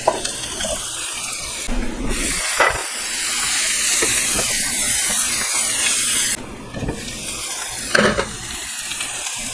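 Onions, chili pepper and carrots sizzle steadily in a hot pan, a loud continuous hiss with brief stirring scrapes and surges, and no talking.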